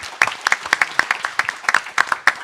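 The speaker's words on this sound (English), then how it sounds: "let's give a big round of applause to all our panelists once again" Small audience clapping for conference panelists, a sparse, uneven patter of individual claps, fairly close and brief.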